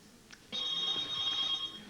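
A telephone behind a curtain on a TV studio set rings with a steady electronic trill starting abruptly and continuing for over a second, fairly clear against a quiet background.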